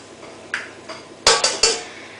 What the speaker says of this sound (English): You crack the eggs into the mixing bowl